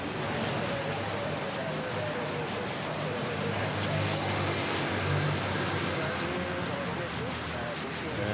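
A Malaysia Airlines airliner on short final to runway 06 at Manila airport produces a steady, broad engine roar throughout, with a voice talking over it.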